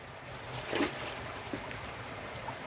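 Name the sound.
water flowing through an opened drain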